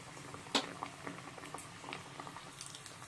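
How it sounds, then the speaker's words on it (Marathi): Breaded paneer pieces frying in hot oil for a crispy paneer burger sandwich, giving a soft, steady bubbling crackle with scattered sharper pops, close but quiet, with no talking. "तर ह्याला मस्त आपण फ्राय करून घेऊया ऑइल मध्ये."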